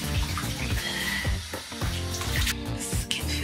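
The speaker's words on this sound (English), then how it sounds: "I need warm water." Warm water runs steadily from a tap into a sink during a night-time skin care routine, a continuous close splashing stream with no talk.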